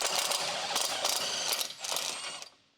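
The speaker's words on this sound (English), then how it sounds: "Use a 21mm deep socket with an electric impact wrench." An electric impact wrench with a 21mm deep socket removes a lower control arm bushing bolt on a 2013–2019 Ford Fusion, giving loud, close rattling hammering bursts in several pulses before stopping.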